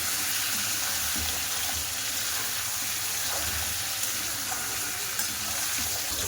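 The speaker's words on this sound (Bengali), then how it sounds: "এর দিয়ে আমি তেল দিয়ে আমি কষিয়ে নেব ভালো করে আমটা।" Raw mango pieces frying in oil for a sweet-sour-spicy pickle, with a broad, steady hiss of sizzling and faint stirring beneath it throughout, close and even, with no talking.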